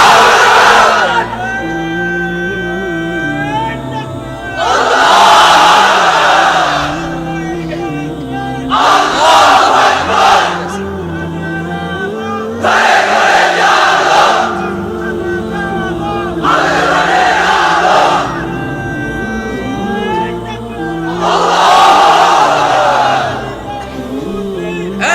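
A large crowd at an Islamic religious sermon gathering roars the takbir chant in unison, several loud collective shouts rising and falling at regular intervals.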